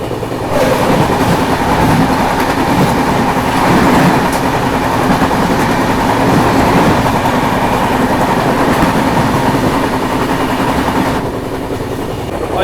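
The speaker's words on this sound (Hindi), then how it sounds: "तो देखो सामने से आ रही है जयनगर से अमृतसर चलने वाली शहीद एक्सप्रेस।" The Shaheed Express from Jaynagar to Amritsar rumbles past near Ludhiana airport, a loud, steady roar of wheels and carriages filling the whole span with faint clickety-clack and no pauses.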